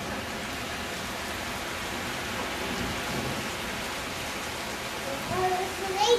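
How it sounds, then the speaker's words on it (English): Heavy rain pounding and splashing off the pavements during a thunderstorm in Antalya, a dense steady hiss close by, rising a little louder near the end. "When it rains here, it totally bounces off the pavements."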